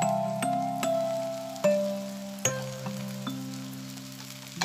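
Ghee sizzling gently in a pan of Indian goat brain curry, a soft steady fry with a few sharp clicks and knocks from utensils against the pan, close and fairly quiet with no talking.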